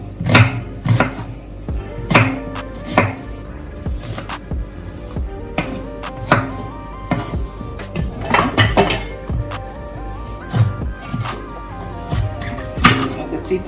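Kitchen prep for a Jamaican-style stewed beef: knife strikes on a cutting board mixed with clattering dishes and utensils, irregular bursts of sharp knocks, close and fairly loud, with a faint voice in the background.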